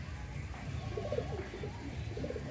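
Soft pigeon coos repeat in low, murmuring phrases over a steady background hum, fairly close and continuous.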